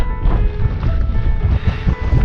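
Strong gusts of wind on a Dartmoor tor summit buffet and roar across the microphone in uneven surges, loud and close, with no talking.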